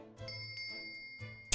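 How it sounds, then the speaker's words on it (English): A bell chimes inside The Great Ace Attorney video game, a couple of soft ringing tones with a sustained metallic shimmer over low background music, ending in a brief loud burst. "It made a sound. That means that the bell is still there."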